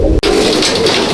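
Pigeons coo steadily and close by in a pigeon loft, the murmuring calls overlapping over a low, continuous background.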